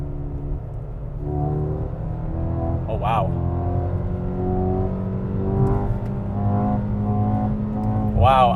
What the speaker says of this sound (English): So let's do a slow pull in a low gear, starting in Sport Plus.